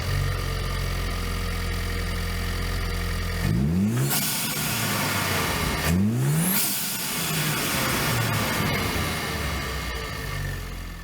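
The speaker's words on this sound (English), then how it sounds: "start the Bronco up and see how it sounds with our new Injen cold air intake" A 2021+ Ford Bronco 2.3L engine fitted with an Injen Evolution cold air intake idles steadily, then revs up sharply twice and settles back, loud and close with no talking.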